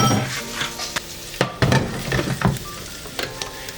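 Fajitas sizzle loudly in a hot pan while utensils stir and clink against metal, with a steady hissing beneath the scraping.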